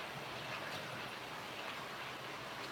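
A model Class 37 locomotive hauls a freight train around a layout with a faint, continuous rumbling run, a soft steady wash of wheel and motor noise with no talking.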